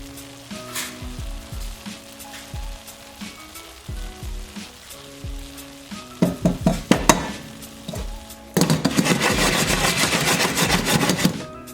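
Rice sizzles and fries in a pot as a spoon stirs it, with soft scraping strokes and rhythmic clinks early on, then a louder, dense crackling sizzle toward the end.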